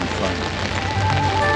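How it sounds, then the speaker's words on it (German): A rain shower falls on a houseboat entering a lock on the Canal latéral à la Loire in France. Steady, dense patter and hiss fill the clip without a break. "Jetzt haben wir doch noch tatsächlich eine Regenschauer."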